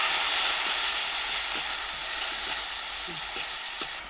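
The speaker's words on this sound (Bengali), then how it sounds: "ভালো করে মশলাটা কষিয়ে নেব।" A spice paste of ginger, garlic, onion, tomato and green chili fries in hot oil with a steady, close sizzle, broken by a few soft stirring knocks.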